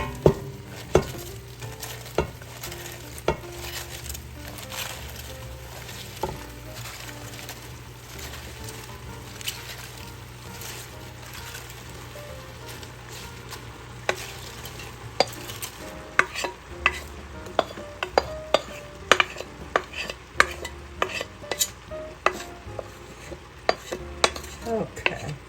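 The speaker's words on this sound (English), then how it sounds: "And now I'm going to add all the kale." Kale and garlic cook in a pot for an Italian greens-and-beans dish, a low sizzle under frequent sharp spoon knocks and scrapes that grow busier toward the end, no one speaking.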